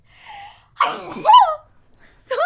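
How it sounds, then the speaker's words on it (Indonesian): A woman's sharp sneeze, preceded by a short breathy intake, ends in a clear burst near the middle. A brief vocal sound follows at the end, during an Indonesian talk about beauty pageants. "bersin."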